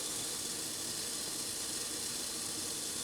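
Steam hisses steadily and evenly, a loud continuous rush that does not change for the whole stretch.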